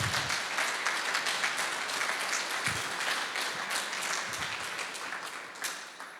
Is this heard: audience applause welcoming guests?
yes